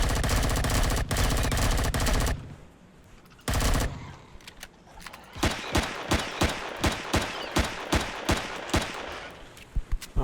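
Pistol fire in the video game Empyrion Galactic Survival. A dense, loud volley opens the passage, a brief lull follows, then sharp single shots ring out in a quick, fairly regular rhythm.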